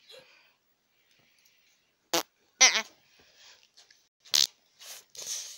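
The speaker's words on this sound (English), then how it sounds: "did Freddy seriously just fart at your face?" Short cartoonish fart sound effects pop out of near silence in the Roblox MeepCity game, a few brief separate bursts with small clicks and gaps between them.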